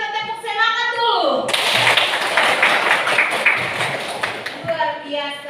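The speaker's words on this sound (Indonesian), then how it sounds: "Ibu minta tepuk semangat dulu." Schoolchildren in a classroom perform the rhythmic 'tepuk semangat' spirit clap, several seconds of loud, close, patterned clapping, with voices briefly before and after.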